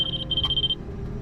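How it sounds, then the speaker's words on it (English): A laser level receiver beeps on a retaining wall build as it hits the mark, a quick chain of short high beeps that merge into a solid tone and then stop, loud and close, with no talk. "every time you hear that solid beep is when it hits it"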